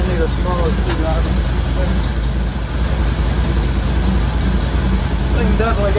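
A 1979 Suburban's engine idles steadily with a low, continuous rumble and the chuffing of exhaust leaks, with a voice speaking intermittently over it.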